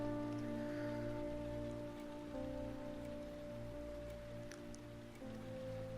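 Steady rain in the video game Heavy Rain patters softly over a low, constant hum, a faint even wash of drops with no voices.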